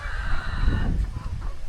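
A chicken clucks nearby in a few short, throaty bursts with a higher tone at the start, close and fairly loud, with no other sound competing.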